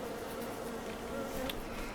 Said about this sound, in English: that canola should get a bonus because it is close to the bees, which right next to the bees